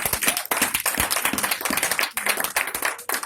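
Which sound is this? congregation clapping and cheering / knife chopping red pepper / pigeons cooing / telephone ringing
congregation clapping and cheering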